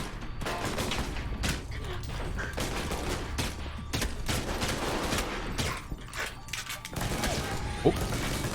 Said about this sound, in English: There's a turret in there.